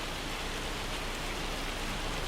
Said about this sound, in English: The hail's coming